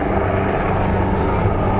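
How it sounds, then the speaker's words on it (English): Aircraft overhead, likely a helicopter, in Hong Kong, a steady broadband engine and rotor drone filling the whole stretch at moderate loudness with no talk. "A lot of helicopters today."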